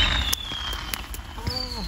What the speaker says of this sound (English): It's time to watch the fireworks.